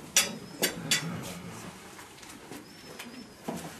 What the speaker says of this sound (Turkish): Kuş